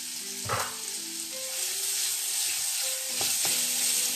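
Diced chouriço sizzling steadily in hot olive oil at the start of a Portuguese caldo verde, a close, continuous frying hiss with a few brief louder spits and stir taps.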